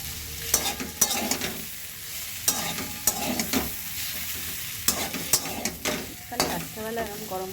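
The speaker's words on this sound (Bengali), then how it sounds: "এবার শুধু কিচ্ছু না, শুধু নাড়াচাড়া করতে হবে" Vegetable curry, meant to go with luchi, sizzles loudly in a pan while a spoon stirs and scrapes it in repeated close strokes over a steady frying hiss.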